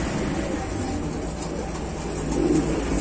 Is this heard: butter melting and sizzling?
no